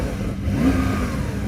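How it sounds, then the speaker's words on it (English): A Porsche 911 Turbo S 3.8-litre twin-turbo flat-six holds a brief, even rev against its soft limiter, a steady, muffled whirring drone heard close by. "you'd think that the 911 Turbo S would sound pretty tasty"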